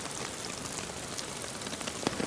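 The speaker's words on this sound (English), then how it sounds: "The rain should hit here and then should filter towards the back end" Steady rain patters onto a silk tarp stretched over a camp in the Fiordland backcountry, a dense, close hiss of drops with a few sharper taps near the end and no talking.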